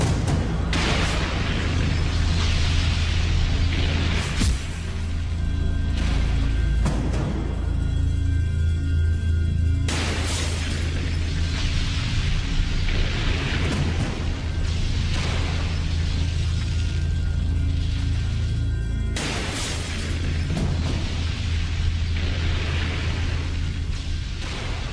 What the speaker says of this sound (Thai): ที่บางใหญ่เกิดเหตุระเบิดดังสนั่นหวั่นไหว